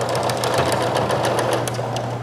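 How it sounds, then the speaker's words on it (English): Sewing machine stitching ribbing good sides together with a narrow zigzag, a steady, fast, continuous mechanical whir and buzz held close and loud throughout without pause. "So I'm going to sew those together,"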